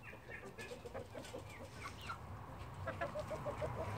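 Chickens, including small fluffy bantams, cluck and chatter steadily on a farm, with several birds calling over one another at close range and a quick run of repeated clucks toward the end.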